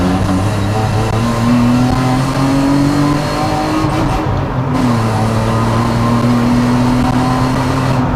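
A naturally aspirated drift car with a twin 2-inch-pipe exhaust pulls onto a motorway, engine droning loudly and rising through the revs with a brief shift dip, close and continuous.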